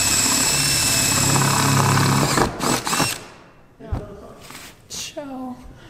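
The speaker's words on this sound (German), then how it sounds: "Was ist das für ein langsamer Bohrer?" A slow drill cuts a hole in the roof of a Carthago camper during a high-roof installation. It drones steadily and loudly for about two seconds, then stops, and voices and scattered handling noises follow.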